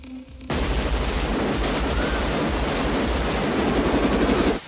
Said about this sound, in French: Là, ça tire dans tous les sens.